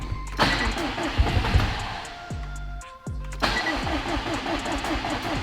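A car engine cranks and catches right after a brand new engine install, running on leftover fuel in the injectors and lines; it fires up loudly, dips and stalls briefly around the three-second mark, then restarts and runs steadily with a rough idle.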